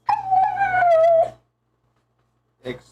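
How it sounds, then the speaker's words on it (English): A dog howls and whimpers in a long wavering cry, loud and close, then breaks off into silence before a short yelp at the end; no talk is heard over it. "Man with dog sound."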